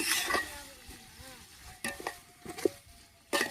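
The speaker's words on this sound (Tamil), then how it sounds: "எண்ணெயில் நல்லா வதங்கட்டும்." Onions sautéing in oil for Andhra biryani, stirred with a utensil that scrapes and clinks against the pan in short bursts over a soft background sizzle, with some voice in between.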